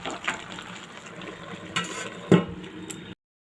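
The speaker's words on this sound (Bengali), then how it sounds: "আমি একটু সুন্দর করে নাড়াচাড়া করে দেবো ব্যাক ক্যামেরায়।" Pumpkin stem curry is stirred in a pan, giving a low continuous frying sizzle with occasional spoon scrapes and one clearer knock near the end.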